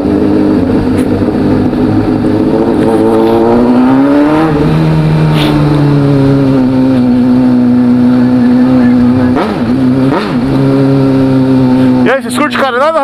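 A Honda CBR600 motorcycle engine roars loudly and nearby, revving up and down in sweeping rises and falls, with a sharp rev burst at the end.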